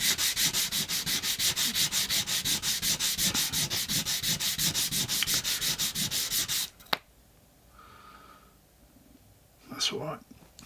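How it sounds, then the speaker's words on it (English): A model locomotive tender wheel from a DJH 2MT 2-6-0 kit is rubbed on abrasive in fast, even back-and-forth strokes for several seconds, then stops, leaving a quiet room with faint handling sounds and a brief rustle near the end. "on a bit of abrasive, and that's cleaned it off a little bit."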